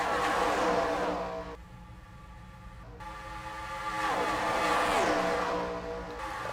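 Race cars in an oval racing game at Auto Club roar past one after another, engines surging loud, dipping as one passes at about 1.5 seconds, then swelling again with a Doppler sweep near 4–5 seconds.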